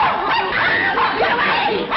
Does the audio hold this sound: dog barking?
yes